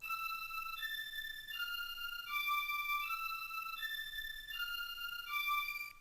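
A high string counter melody moves in long sustained stepwise notes over a phonk beat, its bright layered tones holding steady and loud throughout with a faint low pulse underneath.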